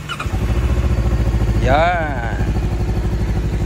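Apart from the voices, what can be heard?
Voge 525RR motorcycle engine starting and idling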